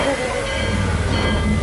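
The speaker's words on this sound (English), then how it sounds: "that sound is us spinning our wheels" A big steam locomotive spins its wheels as it strains to move off, producing a steady, loud hissing and chuffing roar with low rumbling throughout the brief moment.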